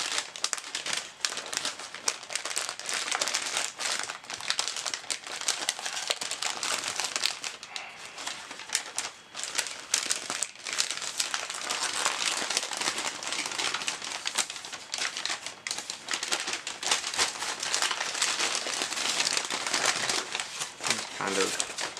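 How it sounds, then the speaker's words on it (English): Yellow tissue paper packaging crinkled and rustled close up in steady, continuous handling while unboxing a zen garden set, with soft crackles throughout and no talking. "we've got more of this yellow tissue paper packaging"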